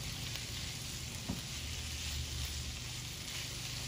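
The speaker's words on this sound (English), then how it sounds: "And we want these potatoes to brown and soften up." Potatoes with green onions frying in a pan, a steady broadband sizzle with soft crackle that holds at an even level throughout, with no talking.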